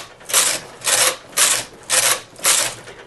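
A knitting machine carriage knitting rows, five rhythmic swishing passes back and forth, each a bright rasping slide followed by a short pause, close and clear with no speech.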